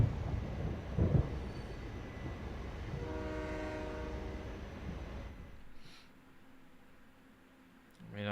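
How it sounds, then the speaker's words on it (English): Freight trains hauling sand in the factory-building game Captain of Industry rumble steadily, with a horn-like tonal sound around the middle, then fading quieter toward the end. "Fancy new sand trains."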